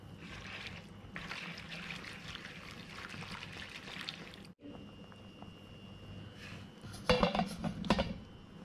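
Food being mixed in a bowl for Swedish meatballs, a continuous soft wet stirring with a brief gap midway, then a louder burst of utensil clinks and scraping against the bowl near the end.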